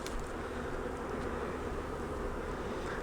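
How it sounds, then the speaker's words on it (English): A honey bee swarm fans at the hive, a dense, continuous buzzing drone of many wings close by, steady and unbroken with no voices. "So they're up here fanning, spreading the pheromone from the hive out, so these bees that are flying know where to go."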